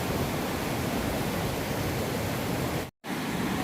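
A large waterfall on a mountain trek between lakes and passes, a dense, constant rush of falling water, loud and close, broken by one brief cut to silence near the end.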